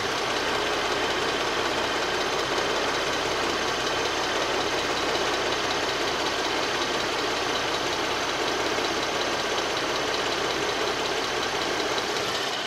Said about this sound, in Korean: 앞에 나가셔서 엔진 소리 한번 듣도록 하겠습니다.